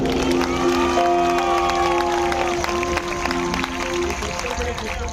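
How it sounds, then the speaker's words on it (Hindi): A live concert crowd in Nagpur claps and cheers for several seconds, a loud sustained roar of hands and shouts with a few whoops rising over it and some voices mixed in. "मैं चाहता हूं एक बार अपनी उपस्थिति के लिए आप तालियां बजा लें।"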